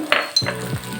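Spices and chilli powder frying in a pan for chole while being stirred, with a brief sizzle and a couple of scraping stir strokes, close and moderately loud.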